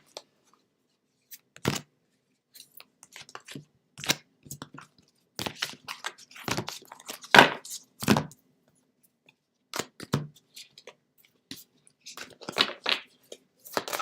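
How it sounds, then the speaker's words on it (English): Large, wide and long tarot cards being shuffled by hand, giving irregular bursts of soft riffling and slapping in close quarters, with quiet gaps between. "I can normally shuffle a lot faster, but they're wide and they're long"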